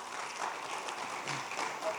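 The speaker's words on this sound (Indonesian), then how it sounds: "Jadi tepuk tangan dulu untuk alumni yang hebat-hebat begitu ya." Audience applause for distinguished Atma Jaya alumni at an opening ceremony, a steady diffuse patter of many hands filling the hall at moderate loudness with a faint voice underneath.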